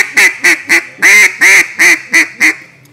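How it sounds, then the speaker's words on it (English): An RNT Original duck call blown in a run of about eight loud, nasal quacks, the middle ones drawn out longer, each short, even blast close and alone with no talk. "You looking for a good duck call to do it all from now until forever?"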